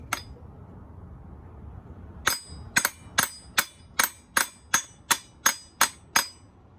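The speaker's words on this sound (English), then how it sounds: "Now I'm just gonna pop the shaft with the hammer, and it should just real light taps" Light hammer taps on a Poulan Pro 335 chainsaw crankshaft to free the flywheel, about a dozen sharp metallic clinks in an even rhythm, close and clear over faint background.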